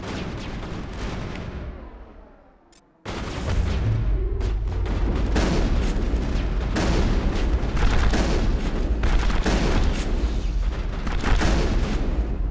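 Heavy grenade blasts and combat booms from Mass Effect 1 roll on continuously, loud and dense, briefly dropping to near silence before a sudden hard burst resumes the sustained barrage.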